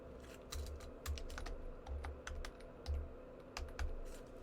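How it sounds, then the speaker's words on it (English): Typing on a computer keyboard, a quiet, close sequence of irregular key clicks and heavier thumps in bursts, with no talking. "I'm just typing in New York Bohemian names."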